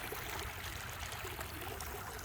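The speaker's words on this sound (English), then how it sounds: "here's the creek behind my house" A creek behind a house flows steadily after rain, a constant broadband rush of running water heard faintly and evenly throughout, with no voices.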